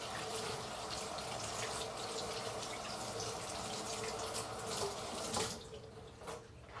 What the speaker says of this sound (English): First, you gotta wash your hands, man.